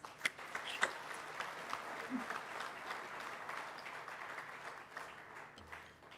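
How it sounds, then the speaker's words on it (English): An awards-ceremony audience breaks into sustained, even applause to welcome the chief guest, with a few sharper claps standing out early on. The clapping is steady and moderately distant, with no talk over it. "please join me in welcoming our chief guest with warm applause"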